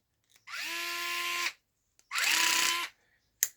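A Dnipro-M CSD-40X cordless screwdriver set to clutch position one runs in two steady whirring bursts of about a second each, its motor tone dipping slightly as each starts, with a short click at the end. No one speaks.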